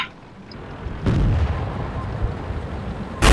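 Gunfire in an online shooter game, with two heavy, booming shots about two seconds apart, the first trailing into a low rumble, loud and close.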